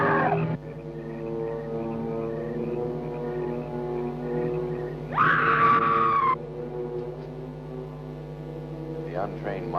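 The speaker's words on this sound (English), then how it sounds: "it is the scream of the white ghost" In a 1959 horror film, a woman's high, eerie ghostly scream rises over a low droning tone for about a second, amid a heavy, reverberant background; another faint cry follows near the end.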